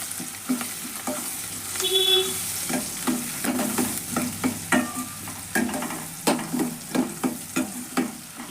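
Lentil dal with spices stirred in a pot, a spoon scraping and clacking in repeated strokes over a soft sizzle, growing busier toward the end.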